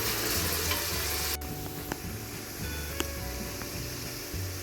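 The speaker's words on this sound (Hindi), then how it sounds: "अब प्याजों को अच्छी तरह मैं फ्राई कर लूँगी।" Two onions frying in three to four spoons of oil for chicken cholay, a close, busy sizzle with intermittent scraping stirs and small clicks, steady throughout with a brief dip partway, no talk.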